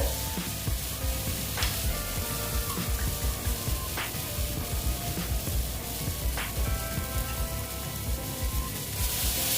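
Boal fish curry masala sizzling steadily in a pan as it is sautéed, a continuous dense crackle with occasional sharper pops and scrapes, close and even throughout.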